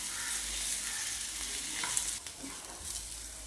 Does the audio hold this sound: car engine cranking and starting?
no